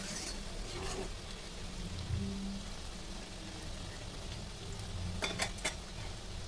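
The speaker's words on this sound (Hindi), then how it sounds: "इस तरीके से ये अच्छे से फ्राई हो रहे हैं।" Namak paare made from maida fry in hot oil over a high flame, a steady soft sizzle and bubbling with a few sharper crackles near the end. It is fairly quiet and there is no talk.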